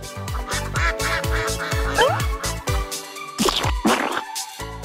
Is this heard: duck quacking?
yes